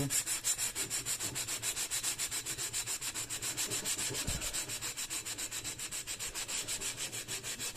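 A scourer scrubs the bottom of a stainless steel pot in fast, even back-and-forth strokes, a close, loud, rhythmic rasping that continues steadily, with a brief low thump partway through.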